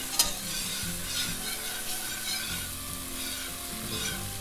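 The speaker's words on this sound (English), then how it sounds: "To that, we're going to add a 1/4 cup of red wine. That is a Cabernet Sauvignon. And we'll just let that cook for a minute." Red Cabernet Sauvignon wine cooks in a hot pan with a steady, close sizzle and crackle that holds evenly throughout, with a sharp tap near the start and no voices.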